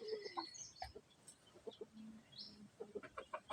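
A wild-caught junglefowl, a jungle chicken kept tied in a cage, gives soft clucks and short calls, faint and intermittent against a quiet background.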